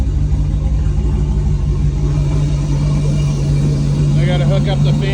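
LS 6.0L L76 V8 in a 1971 Jeep Gladiator idling without a muffler, a loud, steady, deep rumbling drone held throughout with a low throb and no revving.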